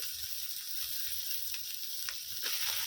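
Cauliflower florets tumble into a hot pan of oil, spices and chilli for a veg momo filling, setting off a loud, steady sizzle with faint stirring knocks throughout.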